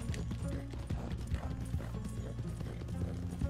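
A horse gallops in Red Dead Online, its hooves beating out a rapid, steady clip-clop rhythm under game music and ambience, with a whinny-like tone partway through.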